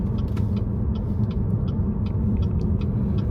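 A 2018 Chevrolet Malibu's 1.5-liter turbocharged engine drones with a steady low rumble heard from inside the cabin, continuous and even, with faint road noise.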